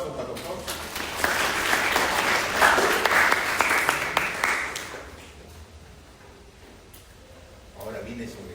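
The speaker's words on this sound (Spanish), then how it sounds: "Un aplauso para el doctor." An audience at a class or lecture on negotiable instruments applauds for several seconds, the clapping swelling and then fading to a quiet room before a voice returns.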